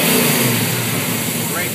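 Martin GM Ramjet performance engine revving steadily and loud, a continuous close mechanical roar holding a high-pitched whine throughout.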